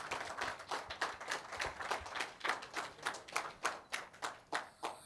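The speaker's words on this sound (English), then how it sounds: "Guys, please clap for yourself." A small group of people clapping in steady, separate hand claps at a tech community meetup, moderately close and fairly quiet, with no talk.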